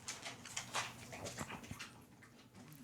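A dog whimpers indoors, soft and fairly faint, in a few short whiny bursts over steady room noise.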